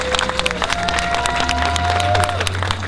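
An outdoor candlelight vigil audience in Little Saigon, Westminster, claps for Gabriel Law in a dense, steady round of applause that lasts throughout, with a faint tone running underneath.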